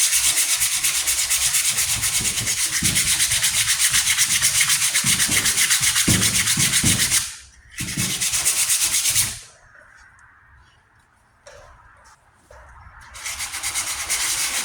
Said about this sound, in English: just using progressive grades of sandpaper.